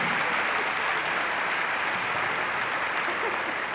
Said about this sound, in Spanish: Otro aplauso por este segmento.